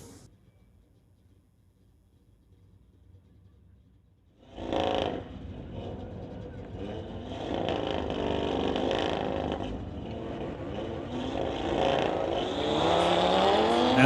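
Street-legal drag race cars, including a 2016 Audi, run the quarter mile. Near silence gives way to a sudden surge of engine roar that holds steady and grows louder, with a rising whine toward the end.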